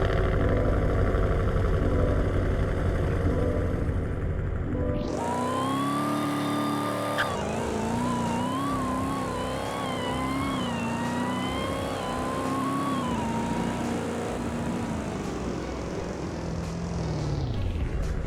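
A supercharged 6.2-litre GMC Yukon with a lowering kit revs hard, its engine note jumping sharply and then climbing and wavering in a sustained, loud, close roar with a whining overtone.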